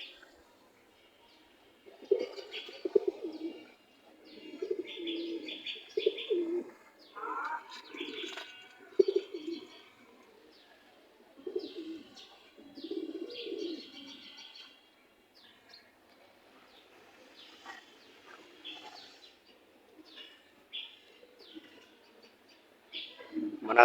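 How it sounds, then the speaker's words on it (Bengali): Pigeons coo in soft, repeated bursts with a few chirps over about twenty-four seconds, fairly faint and spaced out, the birds circling near a rooftop flock. "দেখতে পারতেছেন কবুতরগুলো"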